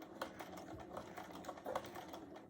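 Sewing machine stitching through quilt fabric, a soft steady run of rapid mechanical needle ticks, faint and close, with no talk.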